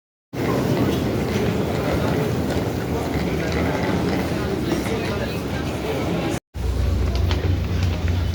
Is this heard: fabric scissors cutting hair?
no